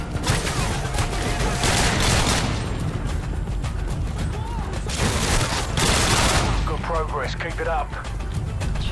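Dense, continuous gunfire and explosive bursts from a Modern Warfare Spec Ops match roar loudly throughout, with a voice talking over the din.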